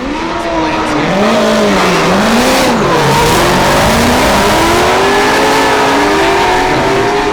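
Drift cars at a Formula Drift event in St. Louis, including a BMW, scream at full throttle with squealing tires, loud and up close, the engine pitch wavering continuously as they slide through a tandem run.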